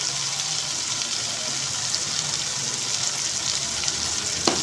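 Curry leaves sizzle in hot oil in a pan while frying for parda biryani, giving a steady, close crackling hiss with small pops throughout and no voices.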